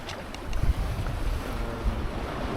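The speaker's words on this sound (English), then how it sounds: "we're flying the cruising chute, wing on wing, in probably what is 50 knots of wind" Strong wind roars across the microphone aboard a sailboat running wing on wing under a cruising spinnaker in about 50 knots, with wave and water wash beneath the steady gusting rush and no talk.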